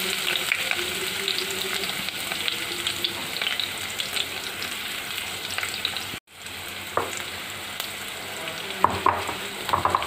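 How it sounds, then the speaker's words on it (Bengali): Onions go into hot oil with whole spices for a chicken and papaya curry, filling the space with a loud, continuous close sizzle and crackle that briefly cuts out, then resumes with some stirring clinks. "গরম তেলে আমি কিছু গরম মশলা ফুটিয়ে নিয়েছি, এখন এর মধ্যে দিয়ে দিব পেঁয়াজ।"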